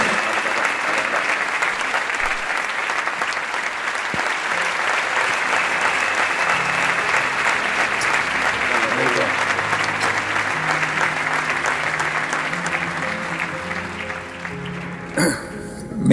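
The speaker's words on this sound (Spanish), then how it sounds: "Siga ese aplauso, por favor." Sustained audience applause at a business forum talk, dense steady clapping from a large seated crowd that carries on for a long stretch, with some music underneath, and a brief sharper noise near the end.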